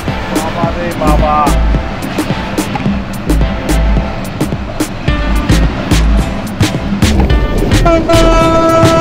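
Train pulling into Tangail railway station, heard from on board with rhythmic wheel clatter over rail joints, squealing brakes and a horn toot near the end, loud and close with voices talking over it.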